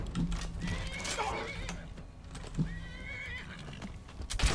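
Horse in the video game Skyrim, a whinnying neigh followed by another, mixed with clip-clopping hooves and a few thuds, fairly close and moderately loud, with no talking.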